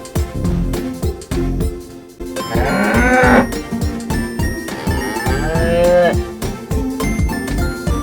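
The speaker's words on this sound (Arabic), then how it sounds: "cow بقرة." Cow mooing loudly and close, two drawn-out lowing calls over a busy rhythmic music bed, with no talk.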